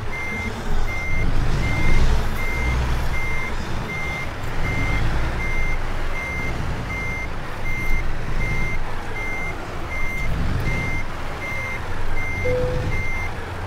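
A truck's reversing alarm in American Truck Simulator beeps in a steady, evenly spaced series while backing up a trailer, loud and continuous over a low engine rumble, with no talking.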